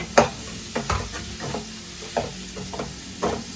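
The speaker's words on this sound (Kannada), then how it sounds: "ನೀರುಳ್ಳಿ ಪೂರ ಒಂಚೂರು ರೆಡ್ ಫ್ರೈ ಆವಾಡು" Onions frying in a pan for chicken chilli, a steady low sizzle broken by several sharp stirring scrapes at irregular intervals, close by with no talking.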